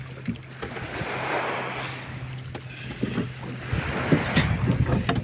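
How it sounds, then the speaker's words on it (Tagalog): A rowboat paddled by hand with no engine, water splashing and sloshing in irregular strokes against steady wind noise on open water. "Mga ligo mi balag way makina guys, bugsay lang sa daw, bugsay."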